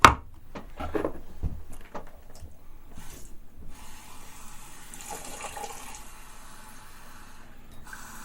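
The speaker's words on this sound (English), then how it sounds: "I'm gonna rinse this off now" Tap water runs steadily over an oilstone used for straight razors, after a few brief knocks and clatters at the start, a continuous moderate splashing stream close by with no talk.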